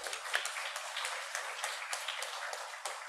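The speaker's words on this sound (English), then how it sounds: "Give a big applause for us." Lecture audience at a university general lecture applauding, a faint, steady patter of scattered hand claps from a distant room, with no talking over it.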